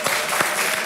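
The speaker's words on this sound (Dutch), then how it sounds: "Applaus voor de secretaris" Applause for the secretary at a Drents Archief gathering: dense, steady clapping from a group, fairly loud and close, with no talk over it during the brief burst.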